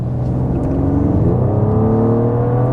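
A Mercedes-AMG GLE engine in Sport Plus mode revs loudly and steadily up close, its pitch climbing smoothly partway through with no talk over it.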